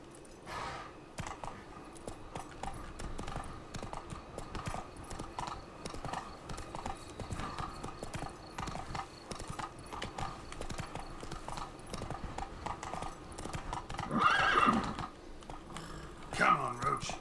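Hooves of Roach, a horse in a video game, clip-clop steadily at a gallop over a continuous game soundscape, with a brief neigh or whinny late on.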